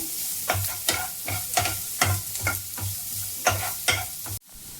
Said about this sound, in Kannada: ಇದು ತುಂಬ ಕೆಂಪಾಗಬಾರ್ದು ಬೆಳ್ಳುಳ್ಳಿ, ಸಾಧಾರಣ ಫ್ರೈ ಆದರೆ ಸಾಕು